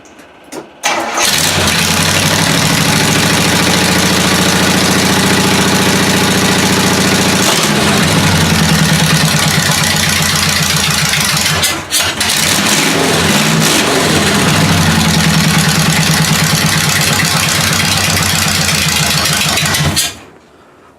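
A small-block V8 engine in a Buick Electra roars loudly and continuously, revving up and down in long bursts with brief dips between, then cuts off near the end.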